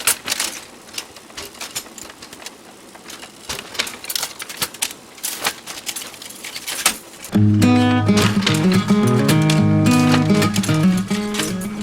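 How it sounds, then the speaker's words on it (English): A linotype typesetting machine runs with dense, rapid mechanical clacking and tapping, then a louder steady whirring, rattling stretch takes over for the second half. "It's called a linotype because it makes one line of type at a time."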